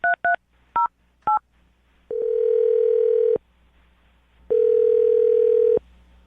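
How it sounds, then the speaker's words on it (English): Several quick telephone keypad beeps in a row, followed by two long, steady ringback tones separated by a pause, heard clearly and alone. "I'm going to dial their phone number right now"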